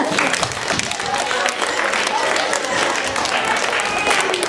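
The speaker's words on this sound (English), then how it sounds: "let's give it a round of applause, guys" A classroom or presentation audience applauds after a talk on lobster tails and the lobster industry: a loud, continuous wash of clapping and crowd noise fills the whole stretch, with some voices mixed in.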